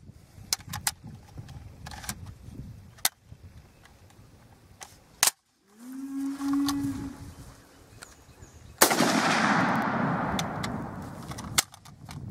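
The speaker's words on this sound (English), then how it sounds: "Let's get to shooting on this." An M1 Garand rifle fires outdoors as a few sharp, scattered cracks stand out over steady background noise, with a burst of broadband rushing noise near the end.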